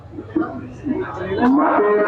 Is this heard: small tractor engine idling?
no